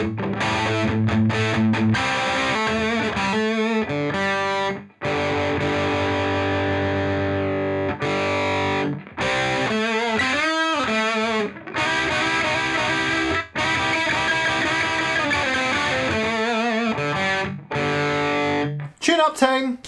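Electric guitar played through a Bugera V22 Infinium valve amp with the gain turned up high, giving a loud, fizzy distorted tone with chords and riffs ringing continuously, broken by a few short pauses.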